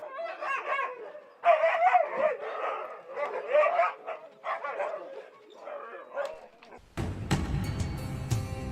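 Sled dogs from a team of about forty bark, yip and whine in repeated bursts for several seconds, close and lively. Music then abruptly takes over at the end.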